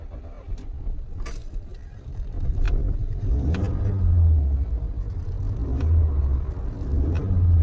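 A car engine cranks and catches, then settles into a rough, vibrating idle; the low engine rumble swells and stays steady, with light rattles near the start and no talking.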